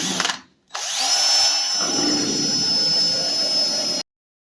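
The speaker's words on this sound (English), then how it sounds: "trying to drill a hole through and see if I can get in the middle of all of those threads" A power drill whines steadily at high pitch as it bites into a broken metal fender bolt on a 1966 VW Beetle Convertible, starting after a brief pause and running continuously for a few seconds before stopping abruptly.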